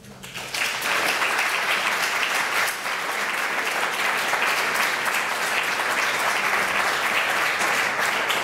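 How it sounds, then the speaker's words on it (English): An audience at an event on national evaluation policy breaks into applause, starting abruptly and holding as a loud, full, sustained clapping for about eight seconds. "Let me ask you to give a big applause to 3A."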